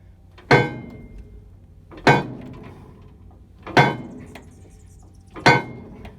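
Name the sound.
hammer whacks on a Bulldog oil engine part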